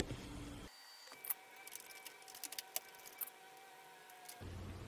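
Clicks and small plastic snaps as 8 GB RAM modules are pushed into the memory slots of a Dell desktop, several sharp taps over a faint steady hum, near and quiet.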